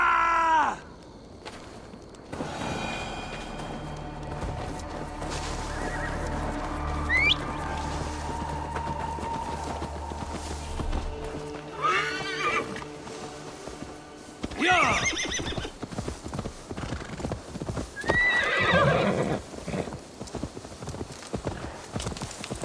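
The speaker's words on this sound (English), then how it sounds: "Now to deliver Magni his horse" Horse hooves clip-clop in repeated bursts during Assassin's Creed Valhalla gameplay, with several whinnies and snorts breaking through the game's ambient backdrop over about twenty seconds.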